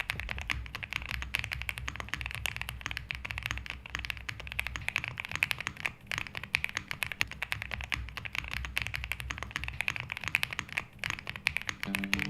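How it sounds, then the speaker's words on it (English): Rapid, continuous clacking of keys on a top-mount mechanical keyboard, close and crisp, with an even typing rhythm and no voices. "Now we know how the keyboard sounds like"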